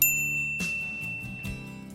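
A bright notification bell dings once, then a couple of lighter metallic chimes follow, clear and close with a ringing decay and no voices.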